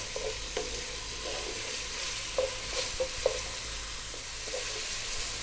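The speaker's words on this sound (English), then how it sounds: "We're going to drop in the garlic ginger paste or your chopped garlic or ginger." Garlic ginger paste fries in a pot for a vegan spicy soup, giving a low steady sizzle with a few soft stirring scrapes and clinks, no voices over it.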